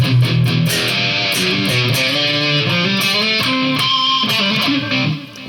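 Electric guitar through a Line 6 POD XT Live amp modeler on its metal distortion preset plays loud, thick, saturated chords and riffs that ring steadily without a break.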